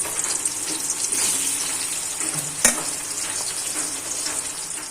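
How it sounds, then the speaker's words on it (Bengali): Onions frying in oil with bay leaves and cumin for a mutton and potato curry, a close, steady crackling sizzle with a sharp clink of a utensil on the pan midway. "অর্ধেকটা আমি ভেজে নেব"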